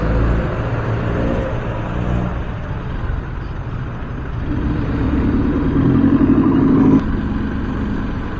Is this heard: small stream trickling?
no